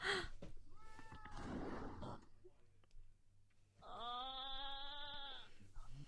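A cat in an anime episode, being lured with food, gives two meows: a short one, then after a pause a longer, drawn-out cry, with soft breathy sounds in between.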